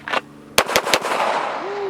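Three sharp gunshots fired at a Triumph Systems Pivotal Trainer steel target, cracking in quick succession about a fifth of a second apart, followed by a lingering ring and a rising metallic tone from the struck target.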